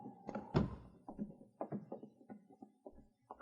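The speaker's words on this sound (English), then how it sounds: "Don't make any noise when you close the door." A door is closed quietly in a 1950 radio drama, heard as a run of soft, close wooden thunks and taps, one heavier knock among them, all at low volume.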